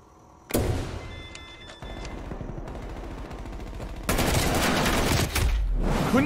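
Rapid bursts of video game gunfire, loud and close, with a sharp shot onset followed by sustained automatic fire and a denser, heavier volley near the end, no talking.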